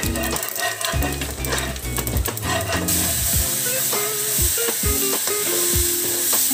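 Egg curry gravy with cumin sizzling and frying loudly in a pan while being stirred, a continuous close hiss with scraping stir strokes throughout, no talk.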